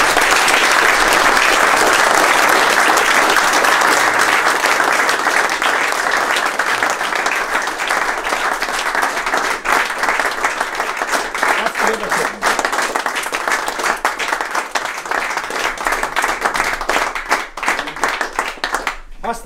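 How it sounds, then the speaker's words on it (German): Sustained, loud applause from an audience at an honorary volunteer award ceremony, dense clapping that continues steadily for the whole stretch and thins slightly toward the end. "Das war dein Applaus"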